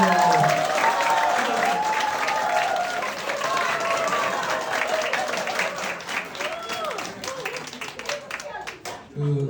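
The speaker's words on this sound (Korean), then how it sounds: "박수 한번 주세요." Party members at a local meeting break into applause, steady close clapping from a crowd lasting several seconds, with voices calling out and cheering over it before it thins to a few claps.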